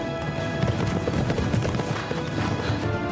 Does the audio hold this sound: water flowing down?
no